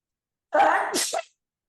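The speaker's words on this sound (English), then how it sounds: "Excuse me, I sneezed." A single close sneeze bursts out abruptly after silence, a quick breathy catch followed by a sharp hissing release.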